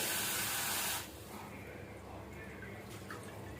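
A steady hiss of water pouring into a cooking pot of beef biryani for about a second, then quieter kitchen background with faint clinks.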